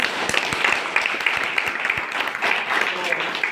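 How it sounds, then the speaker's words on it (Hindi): Audience applause at an education program session: a dense, steady wash of many hands clapping for several seconds, with a voice speaking over it. "तो एक बार जोरदार तालियां।"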